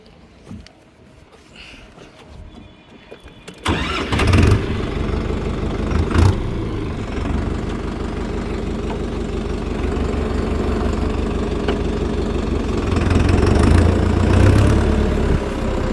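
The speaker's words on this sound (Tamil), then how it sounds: "இந்த டிராக்டரை வந்து ஸ்டார்ட் பண்ணி ஆப்ரேட் பண்ணி காமிக்கிறேன்" A Farmtrac Worldmax 6055 55 hp tractor engine cranks and catches after a quiet start, then settles into a loud, steady diesel idle with a brief surge near the end, no speech.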